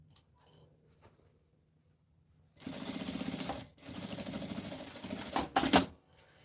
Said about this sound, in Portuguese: Essa costura é com um pé de máquina.